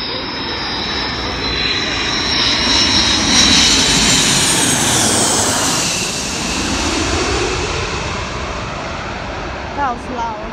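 A large airplane doing a touch and go at RAF Mildenhall roars past low and loud, a broad jet rumble swelling and then fading away, with brief voices near the end.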